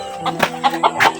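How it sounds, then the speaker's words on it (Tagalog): Chicken clucking up close in a Philippine village setting, a few short bursts in quick succession with faint voices around it. "Diyan may manok mga kaidol, oh."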